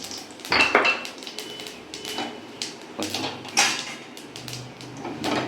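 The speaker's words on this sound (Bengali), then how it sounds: "এই যে তেল দিয়েছি, এবার ফোড়ন দিয়ে দেওয়া হলো," Whole spices tempering in hot oil in a pan while Bengali dal is cooked, with clattering metal utensils, scraping and clinks over a soft sizzle, close and moderately loud.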